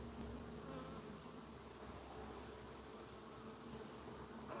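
Honey bees in an open beehive make a continuous, even buzzing hum, a dense, faint drone with no talking.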